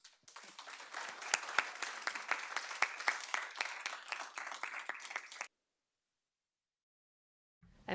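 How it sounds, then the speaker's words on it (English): Audience applause for three panelists at a taxation report event, a dense burst of clapping lasting about five seconds and then cutting to silence. "invite you to give them a round of applause"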